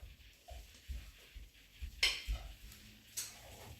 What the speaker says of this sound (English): We don't want to mix it too much